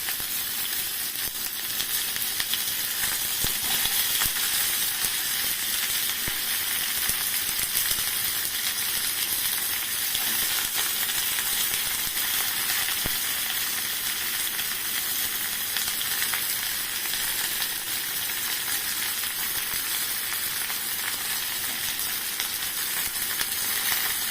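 Steady, crackling sizzle of onions frying in hot oil, continuous and close, with no talking.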